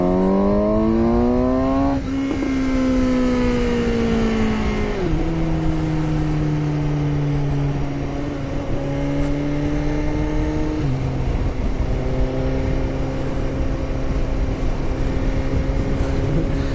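A 2019 Suzuki GSX-S750 motorcycle engine pulls hard through several rising gear-by-gear surges, with harmonic tones climbing and dropping at each shift, loud and close throughout with no talk.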